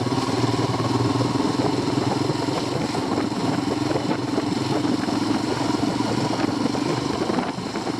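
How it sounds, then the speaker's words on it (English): A Royal Enfield Himalayan motorcycle shifts down from second into first gear on a moorland track, its single-cylinder engine thrumming steadily and close throughout with no pauses. "so that's just second gear into first. There is quite a jump between first and second on this bike."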